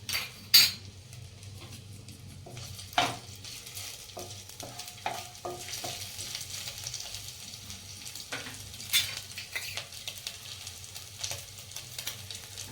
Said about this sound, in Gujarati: આપણે નાની એક ચમચી લસણ નાખીશું, થોડું અધકચરું ટીચેલું.